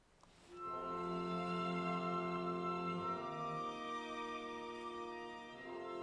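Sustained chords from a small classical ensemble of acoustic instruments playing a concert swell in softly and hold, fairly quiet and smooth, with no voices.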